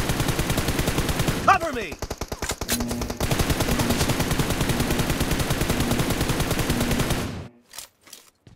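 Sustained automatic M416 rifle fire in the PUBG Mobile team deathmatch, rapid rhythmic bursts that run for several seconds, with a short break and then resume; a brief spoken game voice line is heard, and the firing cuts off near the end.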